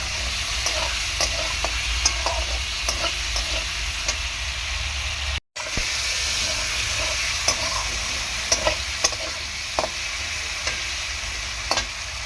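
Three green chillies are added to a pan of frying food for a Bengali bele fish curry with potato and aubergine. A continuous close sizzle plays under repeated scraping stirs, with one brief dropout midway and no talk.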